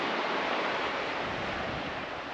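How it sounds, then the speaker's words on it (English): Surf at Gallipoli Beach rolls in as a dense, steady wash of broadband noise, loud and continuous for a couple of seconds, with no voices. "I believe this is what is Gallipoli Beach, where they filmed the movie"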